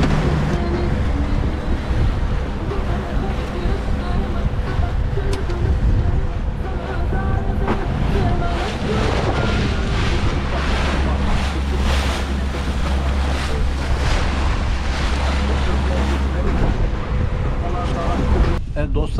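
Strong wind roaring across the microphone at sea aboard a Moonday 480 fishing boat, with waves and surf churning steadily underneath, loud and continuous throughout.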